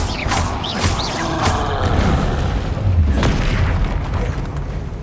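Spellcasting in Hogwarts Legacy, including the Incendio fire spell, produces loud booming bursts with whooshing, crackling tails over dense, continuous battle noise.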